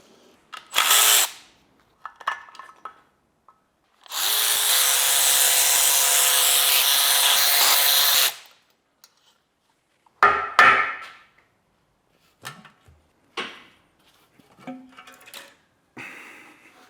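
Tools work on the oil pan of a 103k-mile BMW S65 V8 from an E92 M3 during a teardown, with a loud steady four-second whir of a power driver between scattered metallic clinks and rattles, close by.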